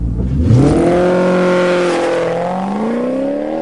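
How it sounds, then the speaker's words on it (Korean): A Maserati Quattroporte Sport GTS with a Ferrari-influenced 4.7-litre 440-horsepower V8 revs hard while stopped at a traffic signal. The engine note is loud and close, a sustained roar that climbs in pitch and then eases back. "혹시라도 주위에 마세라티가 이런 소리를 낸다고 해서 뭐야 이렇게 쳐다보지 마세요"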